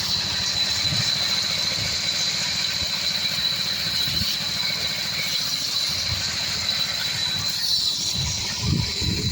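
A pat-pat engine working a firewood saw runs in a steady, close, rhythmic thump that carries on throughout, with no speech over it.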